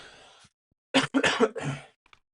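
A person who is ill gives a couple of short, harsh coughs close to the microphone, bursting out after a brief pause, then a faint click.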